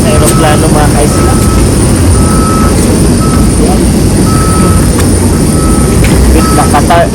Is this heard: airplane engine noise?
yes